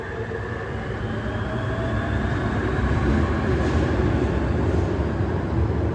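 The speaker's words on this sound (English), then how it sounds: "There goes the train." A Barcelona Metro train pulling away from a station, a steady rumbling roar with a rising whine, growing slightly louder as it departs, with no talk.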